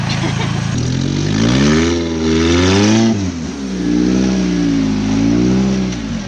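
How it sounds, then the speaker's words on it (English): A Honda K24A2 engine in a rock crawler revs up and down repeatedly, loud and close, its pitch rising and falling in waves with no talking over it. "You guys hear that? That's a K24A2 Honda engine."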